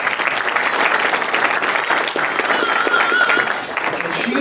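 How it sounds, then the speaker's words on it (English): Audience applause welcoming guest speaker Sarah Stonestreet, a dense, steady patter of many hands clapping at full strength, with crowd noise mixed in throughout. "Give a big round of applause for Sarah"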